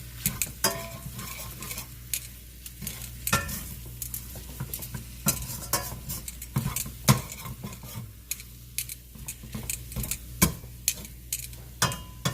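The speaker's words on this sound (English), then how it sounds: "So I had about 2 tablespoons of vegetable oil in the pan, getting hot before I put the beef in here." Beef frying in hot vegetable oil in a pan, a soft steady sizzle under repeated sharp clinks and scrapes of a utensil stirring against the pan, fairly quiet and close.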